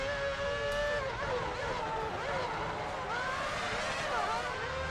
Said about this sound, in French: Je réaccélère tellement plus fort qu'eux, c'est impressionnant.